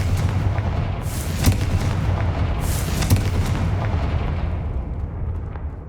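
A Confringo blasting spell goes off in the Hogwarts Legacy video game, producing loud, rumbling explosive booms with sharp bursts that fade into a sustained roar.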